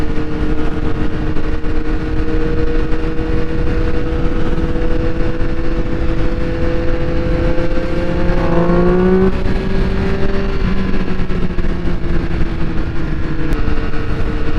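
Triumph Speed Triple 1200 RS motorcycle under way, its engine droning steadily and loud with a constant wash of wind, pitch holding then dipping and shifting around a gear change midway before settling into a steady cruise again.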